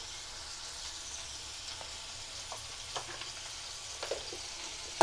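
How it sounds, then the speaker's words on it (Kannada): Okra palya being stirred in a frying pan, a soft continuous sizzle with a few light scraping clicks from the spoon toward the end, close and fairly quiet, no talk. "ಇವಾಗ ಮತ್ತೆ ಕಲಿಸ್ಬೇಕು."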